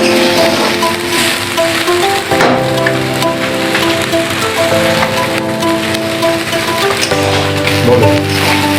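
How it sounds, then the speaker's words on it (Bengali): Green chillies frying in a pan during khichuri cooking, a dense steady crackle and spatter that runs loud and unbroken, with tonal background music layered underneath. "এবার চার পাঁচটা কাঁচা লঙ্কা দিয়ে দিলাম সময় নিয়ে ভেজে নিতে হবে"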